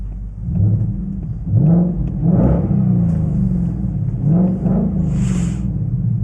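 From inside the cabin, a Ford Mustang GT 5.0L with an aftermarket exhaust gives a deep, muffled drone that swells through a series of revs, each rising and then settling back.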